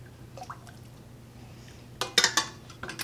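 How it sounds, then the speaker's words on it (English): Hot beef stock ladled into canning jars for pressure-canned chipotle beef taco meat: quiet pouring and dribbling, then a cluster of sharp clinks and liquid splashes from ladle and glass near the end. "you're going to ladle in hot stock. I'm using hot beef stock."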